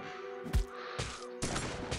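Firecracker zombies explode in the mobile game Dead Ahead Zombie Warfare as a quick series of sharp bursts, four or so cracks in about two seconds over a tonal game background, with no speech.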